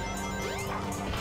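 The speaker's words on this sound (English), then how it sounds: "Let's get out of here before all of that glass rains down on us." Glass shattering in Sonic Adventure on Dreamcast, a sustained bright crash with tinkling shards falling for over a second, loud and continuous with no talk.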